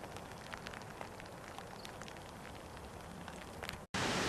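Light drizzle falling on the John Muir Trail, a soft, steady hiss of fine patter close by with no voices, cutting off abruptly near the end.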